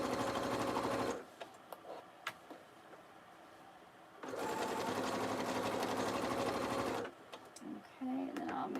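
A home sewing machine runs a seam on a fanny pack at normal stitch length in two steady, rapid-clattering bursts, close up, with a quieter pause and clicks between them.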